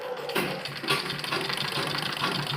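A sewing machine begins stitching a kurti neck, a brief close burst of rapid mechanical clatter that starts abruptly and runs on steadily.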